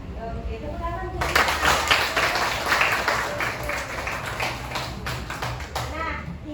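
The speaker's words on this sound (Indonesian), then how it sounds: "Oke, tepuk tangan tuh." A children's class clapping hands in a classroom, a dense burst of applause lasting several seconds that rises suddenly and fades, with children's voices underneath.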